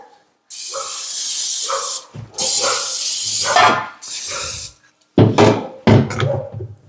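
Cooking spray is sprayed onto bread baking dishes in a home kitchen, several close, loud hissing bursts of about a second each with short pauses between them, plus a few knocks and clatters of the dishes being handled.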